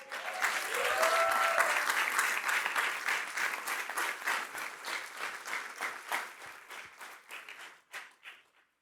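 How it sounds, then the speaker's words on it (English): A council swearing-in ceremony crowd applauds the newly sworn mayor, sustained clapping from many hands that builds, holds steady, then thins out and fades to a few final claps. "Mayor Fraga, another round of applause."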